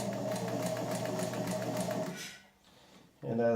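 Vintage Singer 31-15 sewing machine from 1900 stitching through about a quarter inch of marine vinyl, a steady rapid mechanical whir and clatter for two seconds, stopping, then briefly restarting.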